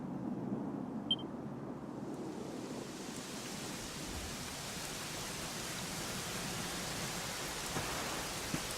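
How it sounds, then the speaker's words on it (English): Steady rain pours in a game world, a dense even hiss at low volume that carries on without a break, with only a couple of faint small knocks in the background. "it was raining like this the last time I ever saw her."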